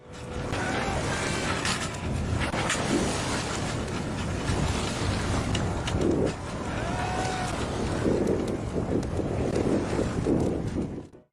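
Steady roaring wind buffeting a microphone aboard a sailing boat at sea, with wave wash underneath, continuous and fairly loud throughout.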